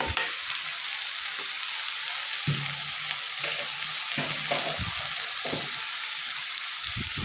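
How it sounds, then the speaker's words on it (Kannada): Greens fry in a pan as sambar powder is stirred in, giving a steady loud sizzle with repeated scraping stirs and clacks of the spoon against the pan, no voices. "ಅದನ್ನು ಸ್ವಲ್ಪ ಈ ಥರ ಮಿಕ್ಸ್ ಮಾಡ್ಕೊಳ್ಳೋಣ"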